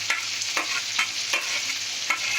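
Fried potatoes and pointed gourd sizzle in a pan as they are stirred, a steady close crackle with rhythmic scraping strokes roughly every half second.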